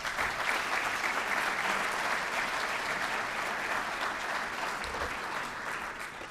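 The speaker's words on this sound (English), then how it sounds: "That deserves a round of applause." Steady applause from an audience fills a Gaithersburg State of the City event, a broad sustained clapping that holds for several seconds and eases slightly toward the end, with no voices standing out.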